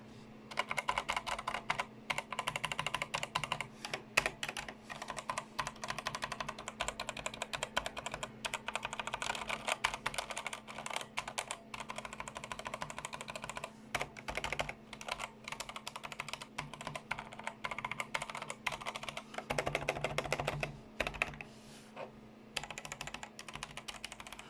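Someone types continuously on a Performax-G Xetra Comfort mechanical RGB gaming keyboard with red switches, making a dense, steady stream of close key clatter with brief pauses.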